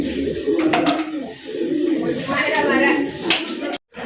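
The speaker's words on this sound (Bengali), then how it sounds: "এখানে রয়েছে চমৎকার আরো এক জোড়া কবুতর" Pigeons in a cage at a farm selling fancy breeds, cooing repeatedly and close up, mixed with a person talking over them.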